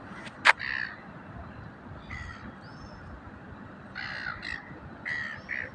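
Crows cawing outdoors at Mulwala Lake, a sharp call near the start followed by a few scattered harsher caws spaced over several seconds against a steady ambient hiss.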